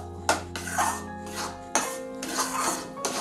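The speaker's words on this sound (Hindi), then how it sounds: "इस तरह हमें एकदम अच्छे से बेसन को भूनना है।" A spoon scraping and stirring gram flour as it roasts in oil in a pan, with soft rhythmic rubbing strokes and occasional metallic clinks against the pan, fairly quiet and close.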